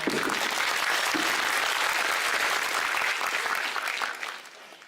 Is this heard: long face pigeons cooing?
no